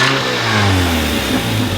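A car engine revs hard close by, a loud, sustained mechanical roar with pitch sweeping up and down in quick succession, no talking over it.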